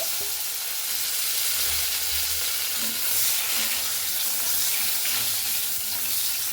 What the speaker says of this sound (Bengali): বেগুনটাও কিন্তু আমি খুব ভালো করে দেখুন ভেজে নিচ্ছি